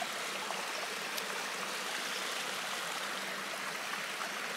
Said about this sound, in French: beau petit ruisseau.